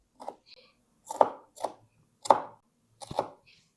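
Onions chopped on a board in a home kitchen, six sharp separate knife strikes at an uneven pace, close and clear with no voices over them.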